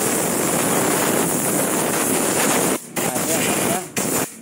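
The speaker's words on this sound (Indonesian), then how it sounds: "langsung saja kita semprot bagian luarnya menggunakan angin" An air compressor blows a steady, loud, roaring stream of air to clean the outside of a machine, with two brief breaks in the flow.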